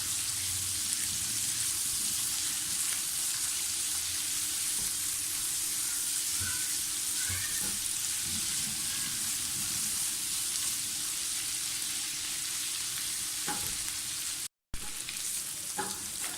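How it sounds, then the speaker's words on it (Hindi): A steady, close sizzle of onions frying in a pan with ginger and garlic continues throughout, with occasional faint clinks and stirring scrapes; no speech. "प्याज हमारी फ्राई हो रही है"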